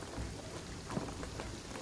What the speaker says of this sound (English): the rain is gonna flood it